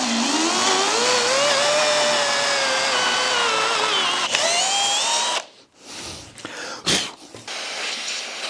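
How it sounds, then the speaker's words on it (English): A power drill bores into a workbench tool holder, its motor whining steadily and rising in pitch for several seconds, then cutting off into short stop-start bursts. "Let's drill this."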